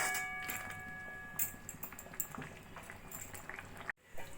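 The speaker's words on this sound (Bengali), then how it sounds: "গরম জল দিয়ে ফুটে উঠেছে।" Tomatoes simmer in hot water in a pot, giving a soft, steady bubbling with scattered pops, close by and fairly quiet.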